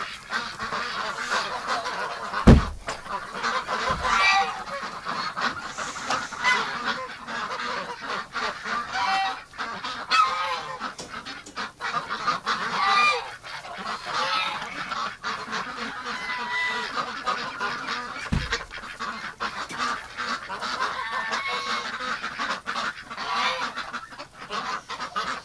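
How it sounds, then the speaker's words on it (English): A flock of geese honks continuously inside a winter shelter, many overlapping calls blending into a busy, noisy chorus with occasional low thumps. "And the geese are already inside here on me"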